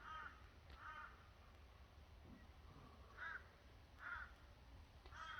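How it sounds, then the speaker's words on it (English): A crow caws in short bursts, about five calls spaced irregularly over several seconds, sounding fairly distant and faint against a quiet outdoor background. "You can listen to the crow."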